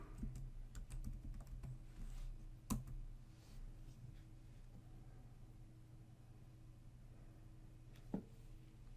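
Someone types the reboot command on a computer keyboard at a Linux prompt. A short run of faint, close key clicks sits over a low steady background hum, with one sharper tap early on and another near the end, and no speech.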